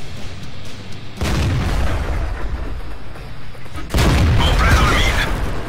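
Two heavy booming blasts hit a tank in World of Tanks amid a platoon of KV-2s and a KV-1S, each a loud, broad crash with a rumbling tail, the second landing a few seconds after the first.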